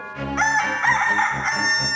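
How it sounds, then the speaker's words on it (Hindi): A rooster crows at dawn, a loud, close, harmonic cock-a-doodle-doo that rises and falls in several pulses over about two seconds, with no talking. "मुर्गा बोला मुर्गा, सुबह हो गई सुबह"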